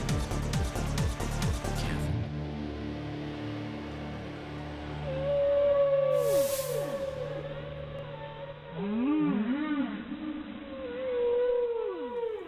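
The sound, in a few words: whale song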